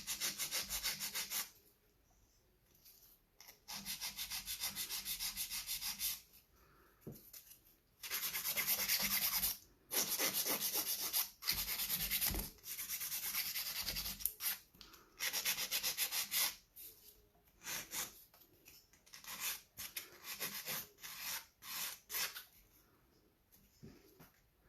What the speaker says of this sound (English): Not bad, not much filing needed.